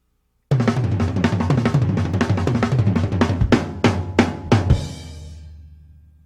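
A fast, powerful triplet crossover drum fill, with rapid close tom and snare hits rolling into cymbal crashes that ring out and fade, played alone.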